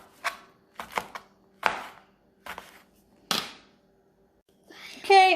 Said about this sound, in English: I'm done slicing the serrano pepper.